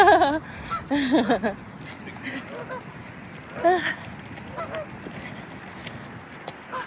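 Geese along a riverside path honk in a few loud, nasal bursts close by, with quieter calls between them against outdoor background noise and some faint talk.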